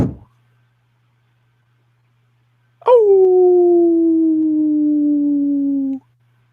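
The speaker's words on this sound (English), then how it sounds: "Start barking." A dog gives one sustained, gliding howl lasting about three seconds, loud and close, ending abruptly after a stretch of near silence.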